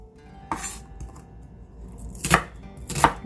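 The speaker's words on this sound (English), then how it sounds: "Moving on, slice our onion." A knife slices through an onion in a few separate cuts, with two loud, crisp chops near the end and a softer one at the start, heard close up with no talking.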